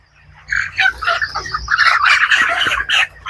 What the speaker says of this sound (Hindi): ये भी एक मुर्गी है, अंडे से निकली है।